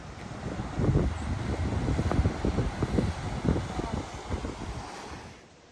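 Waves wash on a beach below cliffs at Tobermory, Ontario, a faint, broad rolling surf with soft breaking pulses under gusty wind noise.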